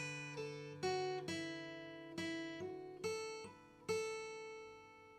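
Acoustic guitar bar from a song with pull-offs and hammer-ons, several plucked notes ringing out one after another, close and quiet, alone.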